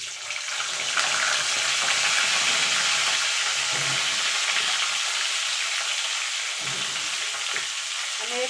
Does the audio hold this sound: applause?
no